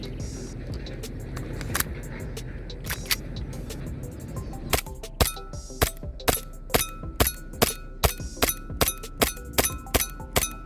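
Airsoft shots from a WE Kimber 1911 gas pistol firing at a full Alfonso liquor bottle: sharp, evenly spaced cracks, sparse at first, then a rapid regular string of about a dozen loud pops.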